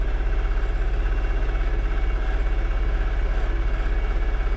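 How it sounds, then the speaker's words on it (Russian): MTZ-320.4 M Belarus compact tractor engine idling, a steady throbbing diesel drone with a regular low pulse, close and continuous, with no voices. "Потому что база короткая, трактор короткий и трясет безбожно."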